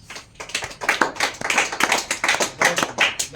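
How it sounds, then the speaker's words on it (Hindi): A group claps hands at a close, lively pace, the individual claps sharp and uneven, rising in loudness after a soft start and continuing steadily for a few seconds. "ताली बजाओ।"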